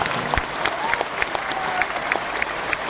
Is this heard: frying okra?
no